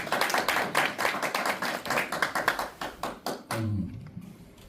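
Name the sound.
audience applause at a lecture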